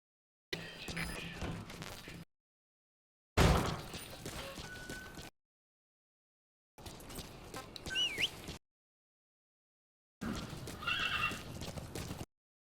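A horse in Metal Gear Solid V neighs and whinnies in separate bursts with hoof clip-clops, interrupted by stretches of silence.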